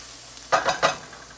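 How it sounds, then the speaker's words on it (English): Softened vegetables for Cuban picadillo stirred in a hot pan, two or three quick scraping strokes over a faint background sizzle, close and brief. "So just give this another quick stir."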